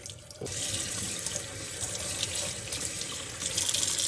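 Tap water gushing into a sink as pork tenderloin is washed under the stream, a steady close rush of running water that starts abruptly and continues throughout, with no talking.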